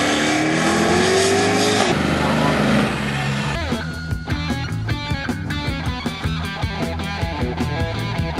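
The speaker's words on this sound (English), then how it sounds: "Plymouth Voyager, car. Dual exhaust." A Plymouth Voyager minivan with dual exhaust revs loudly at first, then its roar gives way to a busier, choppier mix of sound while a voice speaks over it.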